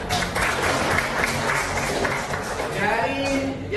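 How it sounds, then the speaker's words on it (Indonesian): Applause in a school classroom, a steady wash of clapping from a class of junior high students, filling the room at even loudness with some voices mixed in. "tepuk tangan untuk Faiz."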